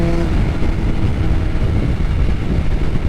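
A 2022 Suzuki Hayabusa riding off throttle under engine braking gives a dense, continuous low rumble mixed with heavy wind rush, loud and steady throughout the short stretch.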